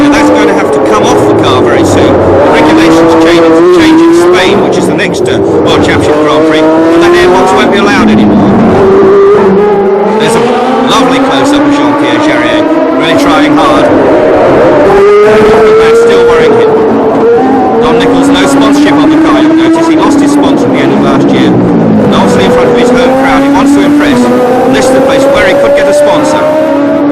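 A V12 race car engine screams at high revs during a 1976 Long Beach Grand Prix, rising and falling as it accelerates and passes, loud throughout with a commentator talking over it.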